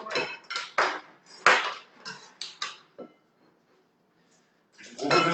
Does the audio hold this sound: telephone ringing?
no